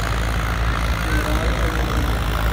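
A Fiat tractor engine at a tractor pulling competition in Ludhiana runs steadily with a deep, loud low rumble, holding at a constant idle-like level throughout without any voices.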